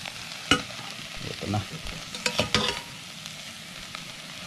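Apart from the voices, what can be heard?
cooking oil added to grasshoppers sizzling in pan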